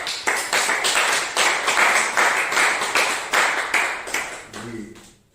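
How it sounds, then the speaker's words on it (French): A church congregation claps and applauds steadily for several seconds with dense, rapid hand claps, then the clapping thins out and fades at the end. "Applaudissons pour le Seigneur."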